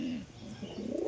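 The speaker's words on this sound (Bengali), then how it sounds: "এই দেখো কবুতর দেখলাম" Pigeons at a home loft give a soft, brief coo, low and close, with faint chirping alongside and no talking.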